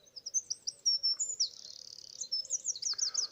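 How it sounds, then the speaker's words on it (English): A robin sings in a dawn chorus, a run of thin high warbling and trilling phrases, fairly close and clear over a quiet background with a faint low hum. "There's a robin too."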